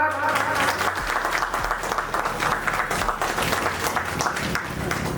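An audience at a felicitation ceremony breaks into sustained applause, a dense, moderately loud patter of many hands that carries on for several seconds.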